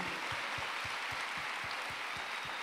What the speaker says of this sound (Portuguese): Bora, irmãos, aplauda o Senhor.